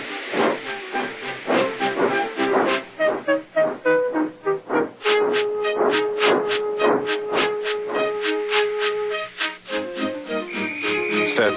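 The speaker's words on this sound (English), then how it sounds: "Gordon, with much noise and blowing of steam," An animated steam locomotive in Thomas & Friends puffs and blows off steam in a rapid series of loud, rhythmic hissing chuffs, followed by a held whistle-like tone and more bursts, with no talking.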